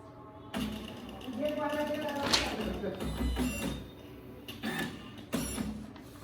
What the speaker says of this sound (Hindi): अभी देखिए पेपर जो है प्रिंटर ले लेगा।